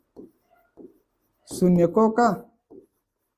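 Brief, scratchy writing strokes come from a Class 10 maths lesson on polynomials. Faint bursts are heard before and after a short stretch of someone speaking.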